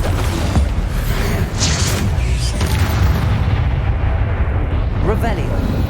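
Bombarda explosion spell going off in Hogwarts Legacy, a loud, booming blast with a rumbling low-end tail and crackling debris, very close and dense, filling the whole stretch.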